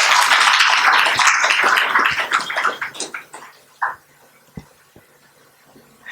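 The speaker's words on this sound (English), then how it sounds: "he deserves a special applaud for his presentation" A conference audience applauds after an academic talk, a burst of dense clapping that thins out into a few scattered claps and fades to near quiet.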